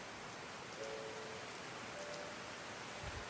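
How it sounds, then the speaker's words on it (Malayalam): Steady rain on a rainy day in Kerala, falling intermittently, a soft continuous hiss of drops on surfaces with no voices and only a faint low thump near the end. "ഇപ്പോഴും പെയ്തുകൊണ്ടിരിക്കുന്നുണ്ട് ഇടയ്ക്കും ഇടയ്ക്കൊക്കെ ആയിട്ട്"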